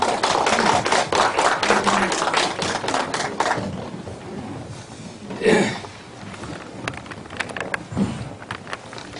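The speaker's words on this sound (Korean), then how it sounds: "박수로 맞이해 주시기 바랍니다." Audience at a lecture on modern poetry and Buddhist thought clapping: dense, close applause that thins into scattered claps and fades out, with a couple of thumps near the end.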